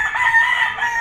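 A gamecock at a Filipino game farm crows once, a loud, close, sustained call filling the whole second with no talk.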